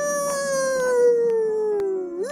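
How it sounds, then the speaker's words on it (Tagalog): A dog gives one long, loud, close howl that slowly falls in pitch and ends in a brief rising whimper, heard alone without talking. "narinig ang unang pag-iyak ni Dogos habang tinatawag si Awo"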